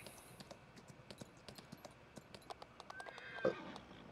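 Horse in Farming Simulator 19 on the Ravenport map, giving one brief whinny near the end of the clip over faint, steady clip-clop hoofbeats and light game clicks.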